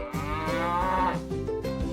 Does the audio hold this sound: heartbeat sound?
no